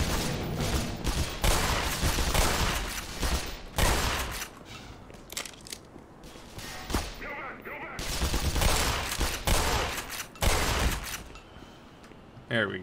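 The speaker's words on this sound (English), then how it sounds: "I'm just gonna go straight into shotgun and I'm gonna rush them with it" In Black Mesa, loud shotgun blasts go off in quick irregular clusters, mixed with echoing gunfire from other weapons and short pauses between the bursts.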